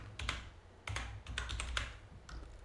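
Short bursts of computer keyboard typing, close and quiet, as a layer name is entered, with clustered key clicks and brief pauses between them.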